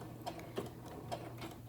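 A sewing machine back stitches through quilted jacket fabric, giving soft, quiet, evenly spaced ticking stitches close by with a steady low hum underneath and no talk.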